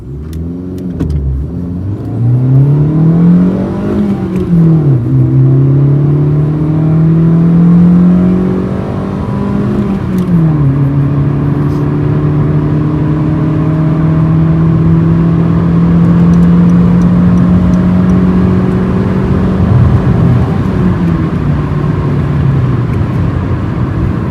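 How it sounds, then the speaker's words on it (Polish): A Honda Civic IX engine revs up loudly and steadily through several gear changes while accelerating hard to 120 km/h, its pitch climbing, dropping at each shift, then climbing again, close and continuous. "Zatem takie dynamiczne przyspieszenie do 120."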